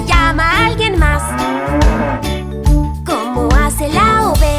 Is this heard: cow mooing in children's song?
yes